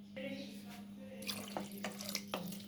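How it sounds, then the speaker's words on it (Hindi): Water poured into a curry cooking on the stove, a steady running splash with a few sharper drips and bursts, close by, over a constant low hum. "इसमें मैं डालूँगी थोड़ा पानी ताकि थोड़ा पकेगा"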